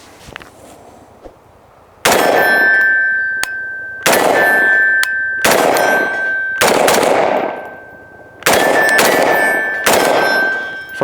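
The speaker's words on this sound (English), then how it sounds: "We're just gonna be shooting some Full Metal Jacket 223 through this." An AR-15 Sabre build rifle fires full metal jacket .223 rounds at a steel target: six loud, sharp shots spaced roughly a second or two apart, each followed by a ringing metallic ping from the struck steel.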